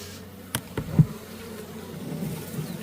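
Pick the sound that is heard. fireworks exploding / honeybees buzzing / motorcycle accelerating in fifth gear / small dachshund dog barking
honeybees buzzing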